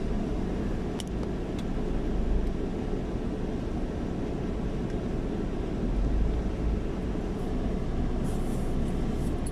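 Slow traffic on Manila's elevated Skyway toward the Port of Manila: a continuous low engine rumble and road roar, steady and fairly close, with no one talking.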